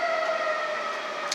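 A loud, steady siren wails nearby in Pittsburgh, holding a high droning tone throughout with no voices.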